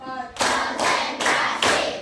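A classroom of students claps together in unison during a counting clap game, four loud, evenly spaced bursts of hand claps close by with no talking over them.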